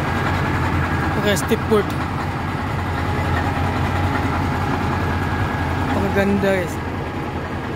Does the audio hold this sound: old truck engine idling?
yes